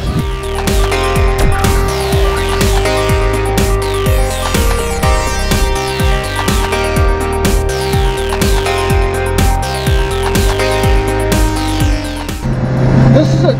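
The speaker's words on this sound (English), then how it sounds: "we are soon going to be behind the wheel of the brand new 2015 Alfa Romeo 4C on the track" A 2015 Alfa Romeo 4C drives hard on the Sonoma race track. The engine note rises and falls steadily with repeated revving sweeps and shifts, loud and continuous throughout.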